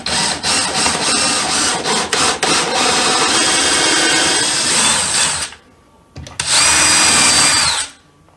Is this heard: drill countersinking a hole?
yes